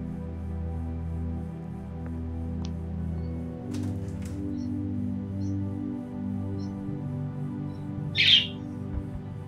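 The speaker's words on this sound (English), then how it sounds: "Yes, that's a bird outside." A single short bird chirp from a video game, The Walking Dead, rings out near the end, over a steady low ambient hum and soft background tones.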